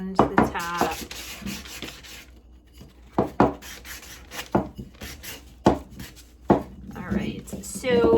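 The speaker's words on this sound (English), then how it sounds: "I just am using my sanding block, and I'm distressing all the way around the top" A sanding block rubs along the top edges of painted furniture in short, irregular strokes, with scraping bursts separated by pauses and a voice talking between them.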